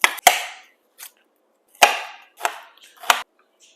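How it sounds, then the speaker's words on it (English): A knife chops an onion finely on a cutting board for a steamed pork bun filling. Several sharp, separate, close thuds come at an uneven rhythm with quiet gaps between them, and no one speaks. "Now I'm going to cut my onion as small as I can."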